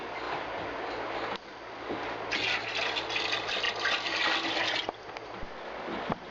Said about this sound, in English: it's time to dump the water into the almost 3 gallons of water we've got in here